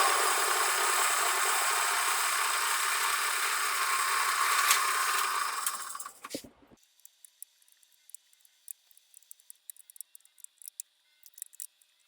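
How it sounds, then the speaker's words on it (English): A steady, loud drilling whine runs for about six seconds while a hole is drilled and tapped in metal on a BMW R90/6 engine, then stops, followed by a few light, scattered taps and scrapes of metal tools. "you just watch me drill and tap that hole"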